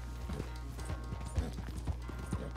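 Horse hooves in Red Dead Redemption 2 clip-clop in a quick, steady gallop rhythm, close and distinct over a low rumbling background, with no voices.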